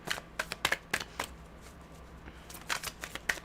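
A deck of tarot cards is shuffled close by, with bursts of crisp riffling snaps at the start and again near the end and a quieter pause in the middle.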